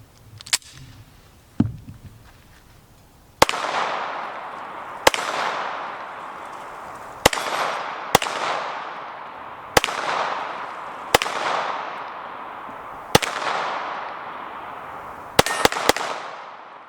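A Springfield Hellcat 9mm pistol with an optic fires a short magazine dry on a range, about ten sharp, loud shots spaced roughly a second or two apart, each ringing out with a brief echo.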